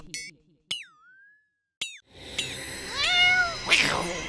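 A fat cat meows near a sage's hermitage, with a few separate rising meows over a faint background of cartoon sound effects and scattered clinks.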